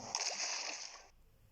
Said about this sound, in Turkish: köpek balığının denize düşüşü fena